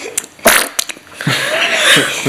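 A young boy blows a wet, raspberry-like fart noise with his mouth, a short spluttering burst up close, followed by giggly breathy sounds and a second longer sputter.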